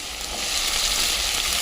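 Potatoes sizzling in a hot pan with ridge gourd and garlic for a banana flower curry, giving a steady, close frying hiss with no talk.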